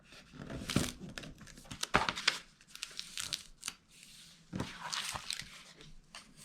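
Paper flaps of a desktop tape roll craft caddy are folded and creased by hand, giving crinkling, rustling and scraping bursts at irregular intervals, close up with no talking.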